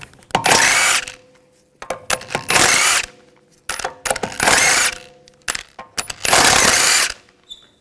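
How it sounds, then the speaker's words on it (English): Impact wrench on a 2011–2018 Volkswagen Jetta rapidly buzzes off the wheel lug bolts with a 17mm socket, four loud, close bursts about a second long each, separated by short pauses with light clinks. "take the lug bolts out"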